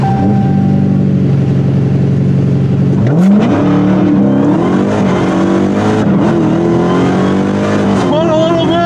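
A Jeep Trackhawk launches on launch control at the Toronto Motorsports Park drag strip, its loud engine holding a steady idle-like drone before surging into a rising, roaring acceleration with gear changes, close and dominant throughout.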